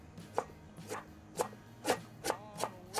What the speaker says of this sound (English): go down and slice it into chunks